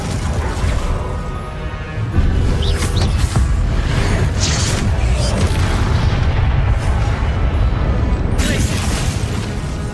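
Confringo fire spell blasts in Hogwarts Legacy boom and crash heavily, with a sudden loud burst and sustained roaring rumble continuing steadily throughout, close and intense.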